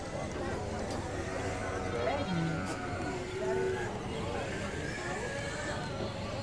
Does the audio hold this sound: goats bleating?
yes